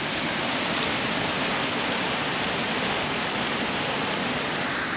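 A waterfall beside a stupa on the Annapurna trek roars in a dense, unbroken rush of falling water, loud and steady throughout with no voices.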